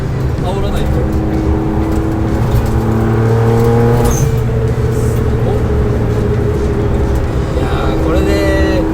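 A turbocharged Suzuki Alto HA23V engine revs loudly and steadily with sustained droning harmonics, with people talking over it throughout.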